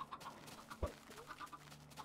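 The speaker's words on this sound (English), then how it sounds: "So many chickens." Chickens in the Minecraft Tekkit Classic game cluck in short, repeated calls, faint and scattered, with one sharper low thump partway through.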